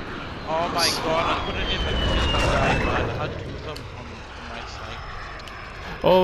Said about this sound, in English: it's that plane that shoots everyone, I think.